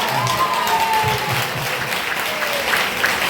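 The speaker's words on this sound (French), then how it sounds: "Acclamation." Congregation at a teaching and prayer day applauding and cheering, continuous clapping with crowd voices and a faint tonal hum underneath, steady and fairly loud throughout.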